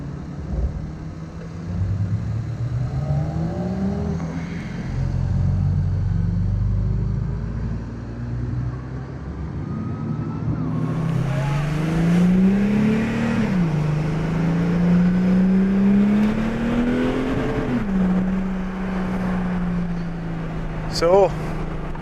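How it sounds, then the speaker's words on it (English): An Audi A5 3.0 TDI quattro on new tyres laps Donington Park on a track day, its engine note rising and falling repeatedly through gear changes and acceleration, close and loud, with a voice talking over it. "right in the A5 for the first time on the new tyres, the new power"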